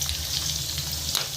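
Pork frying in a pan for a home-cooked dish, a continuous close sizzle and crackle holding steady throughout, with a low background hum and no talk.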